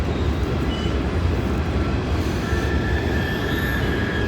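A Norfolk Southern freight train rolls slowly over the Kenova Bridge spanning the Ohio River, a close, dense rumble of wheels and cars with a thin steel squeal rising near the end, no voices.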